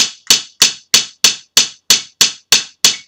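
Ten evenly spaced bright open-hand slaps on a pipe band snare drum, crisp and ringing, each decaying quickly before the next, with no talking.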